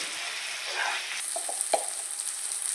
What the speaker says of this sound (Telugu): ఇప్పుడు ఇందులో టమాటాలు వేసుకోవాలి చిన్న సైజు టమాటాలు రెండు వేసాను ఇవి కూడా బాగా ఫ్రై అవ్వాలండి